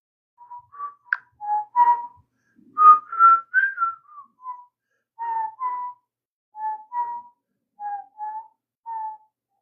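A person whistles clear, pure tones in a series of short melodic phrases with brief pauses between them. The whistling is heard alone, close and moderately loud, with no talking.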